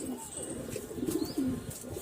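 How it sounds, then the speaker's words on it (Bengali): Two pigeons that have come down below the loft give soft, low cooing in short rolling bursts, moderately near, over a busy background with faint bird chirps. "এই যে দেখুন দুটো পায়রাই নেমে গেছে আমার নিচে।"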